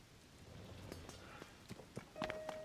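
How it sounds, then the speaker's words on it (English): Rain from a thunderstorm in The Legend of Zelda: Tears of the Kingdom, a faint soft patter of drops hitting the ground with a few sharper taps, quiet and continuous throughout. "It's going to stop thundering any second."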